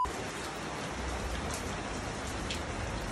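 Steady rain falling, a dense even hiss of drops hitting surfaces that holds at constant loudness throughout.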